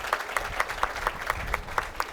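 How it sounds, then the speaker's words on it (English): An audience at a city's state-of-the-city address applauds in a steady round of claps, brief and continuous, with no talking over it. "you all give him a round of applause"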